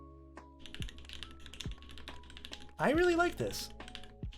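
Keystrokes on a Percent Studio Skog-Reboot prototype gasket-mount mechanical keyboard with a PBT spacebar tap out in scattered, soft clicks under a quiet background, while a voice speaks briefly partway through.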